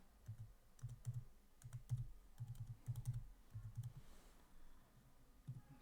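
Quick, light keystrokes on a computer keyboard come in uneven bursts of clicks as text is typed into a form, faint and close, with no voices.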